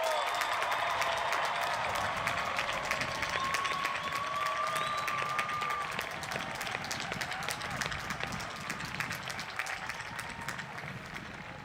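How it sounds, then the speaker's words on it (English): A commencement audience for the Class of 2021 applauds the graduates in a steady, sustained round of clapping from a large crowd, even and unbroken, with faint cheers mixed in. "one more round of applause for all of our graduates"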